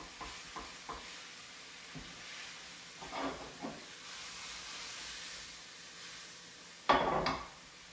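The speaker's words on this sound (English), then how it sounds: "Just gonna give my leeks another stir here." Leeks cooking in a pan, with a soft low sizzle and a few faint stirring scrapes, ending in a sharper louder clatter near the end; quiet overall and without voices.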